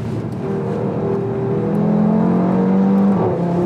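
Audi RS3 Sportback from 2015 driven hard on a race track, its engine droning and climbing in pitch as it accelerates, loud and close from inside the car, with no talking.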